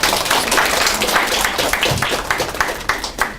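Brief burst of class applause after a student group presentation in a lecture, many hands clapping densely and steadily at moderate volume throughout.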